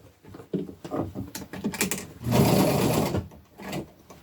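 A sewing machine stitches elastic onto a denim jumper, a steady continuous whir lasting about a second in close, alone between brief handling thumps and shifts of fabric.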